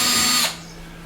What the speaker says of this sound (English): They just screw to the inside of the face frame.